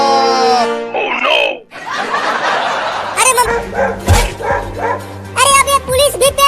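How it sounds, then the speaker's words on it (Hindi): Dogs barking in a noisy outdoor scene from a Hindi comedy skit, with several sharp barks and yips scattered across the clip, mixed with shouting voices and laughter. "हाँ जल्दी भगाओ कुत्तों को"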